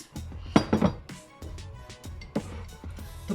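A tall glass set down with bright clinks on a kitchen counter while corn dogs are being made: a quick cluster of sharp, close knocks early on, then another single clink, with no talking.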